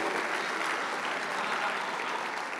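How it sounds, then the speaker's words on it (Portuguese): A church family congress audience claps in a warm round of applause, a continuous dense patter of many hands, fairly soft and steady from start to finish. "Salva de palmas para ela, sensacional"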